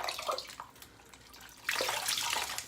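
A cold towel soaked with witch hazel is lifted from a basin of water, giving brief splashes and drips at first, then a louder burst of pouring, trickling water about halfway through, close by.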